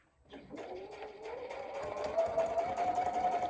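Sewing machine running a fast steady stitch along a paper pouch, close and quiet, the rapid needle rhythm speeding up slightly after starting.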